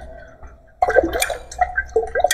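Salt being stirred into water in a container set over two magnets, with quiet at first and then a burst of close sloshing, swirling and liquid squishing strokes that continue irregularly to the end.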